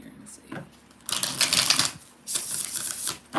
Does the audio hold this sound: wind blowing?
no